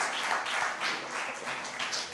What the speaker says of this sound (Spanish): Entonces démosle un aplauso, Señor.